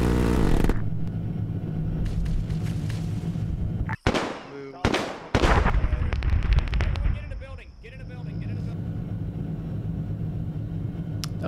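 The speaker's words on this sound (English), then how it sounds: "Calling in close air support on enemy BTR south of your unit." An A-10 close air support gun run strikes an enemy BTR in Arma 3. A steady roar of explosions and impacts runs throughout, with sharp, loud blasts clustered near the middle before settling into rumbling.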